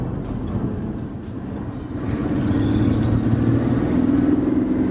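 A Ford Transit M57 medium-wheelbase panel van with a converted engine, driving with its back empty, gives a steady low rumble that swells slightly as it picks up speed.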